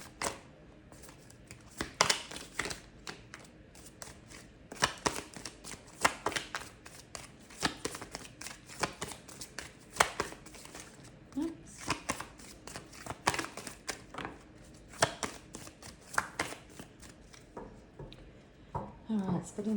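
A tarot card deck is shuffled and split, with repeated crisp riffling and tapping bursts up close, irregularly spaced over quiet background.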